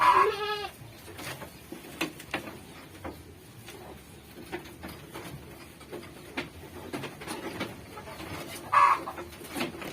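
Goats bleat loudly near the start and again toward the end, amid a busy farmyard with chickens clucking and scattered rustling between the calls.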